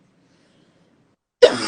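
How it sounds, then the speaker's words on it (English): After near silence, a woman gives a single abrupt cough close to the microphone, short and sharp with a breathy tail. "I just had to cough."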